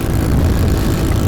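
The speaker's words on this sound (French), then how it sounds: "là ça fait pas un super bruit ma moto" A 50cc four-stroke motorcycle engine with a stock exhaust runs close by, a steady, dense, low droning hum with no breaks and no talking.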